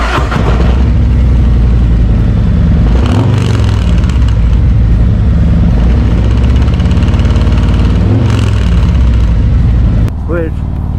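A Harley-Davidson motorcycle fitted with Khrome Werks 4.5 slip-on exhausts rumbles loudly and close up at idle, with two throttle blips swelling the roar before the engine cuts off near the end.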